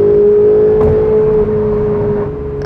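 A Ferrari 488 in race mode gives a loud, close engine drone with a steady high whine, holding an even roar throughout.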